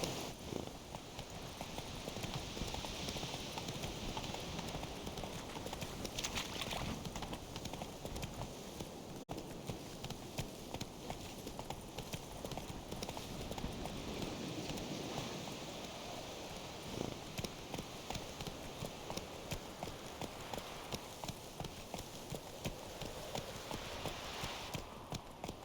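Roach, a horse in The Witcher 3, clip-clops along in a dense, steady patter of hoofbeats over a constant wash of ambient noise, moderately near and continuing without pause.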